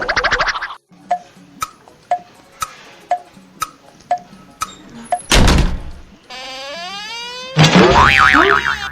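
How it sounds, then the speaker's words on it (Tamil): A door slams shut in a Tamil cartoon comedy, one loud abrupt bang set among springy boings, plucky cartoon effects and a bleating sound, with no talk over it. "யோ இதை கதவு சாத்தினியா"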